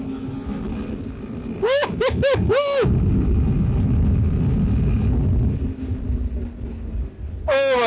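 A new Royal Enfield Himalayan motorcycle runs with a loud, steady engine roar close by, broken by a quick cluster of rising and falling whistling tones early on and another at the end.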